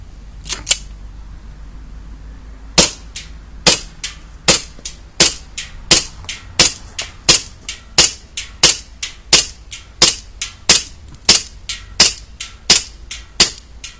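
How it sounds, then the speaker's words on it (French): BW1911 R2 airsoft pistol firing at a can about twenty metres away, a steady series of sharp, loud snapping shots close by, two early then a quick, regular string of over twenty more. "Et je vais tirer là-bas sur notre bidon qui est comme d'hab à une vingtaine de mètres."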